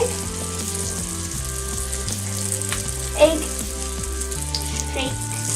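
Japanese chicken wings fry in a pan with a steady, close sizzle that holds throughout, accompanied by a low hum and a brief clink midway.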